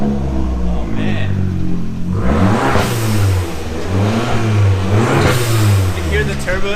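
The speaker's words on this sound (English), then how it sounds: "You hear the turbos? What is that? Is that a wastegate?" Revving engine of a Fiat 500 Abarth rises and falls in a few loud surges, with a whooshing turbo wastegate flutter after each rev, under excited talk from people nearby.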